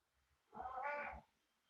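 A cat gives a single meow, a short tonal call of under a second, fairly close in a quiet room with faint low background noise before and after.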